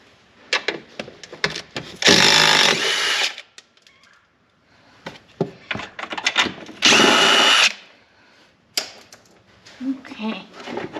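Power tool driving out two 10mm bolts on a CFMOTO ZForce 800EX side-by-side, two loud sustained whirring bursts of about a second each separated by clicks and handling noise, with a person talking between them.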